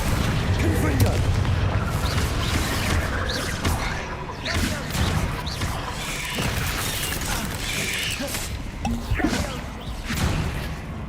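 Explosive spell blasts and booming impacts from combat in the Hogwarts Legacy video game come in repeated bursts with whooshes and crashes, while a voice talks over them.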